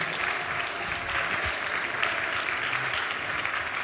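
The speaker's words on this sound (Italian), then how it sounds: "E un grande applauso per quelli che sono rimasti in sala" Audience at a regional science communication competition final in Trieste gives sustained, even applause, a continuous crackling wash of many hands clapping with no talk over it.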